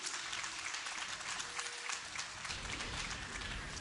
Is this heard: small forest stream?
no